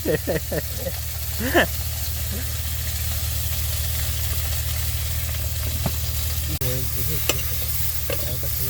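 Fish curry frying with dried and green chilies, salt and turmeric: a steady, close sizzle with a constant low hum underneath, broken by occasional stirring clinks and brief voices.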